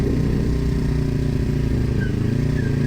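A motorcycle without ABS, ridden on a road, gives a steady, loud engine drone that runs close and continuous for the whole stretch, with no talk over it.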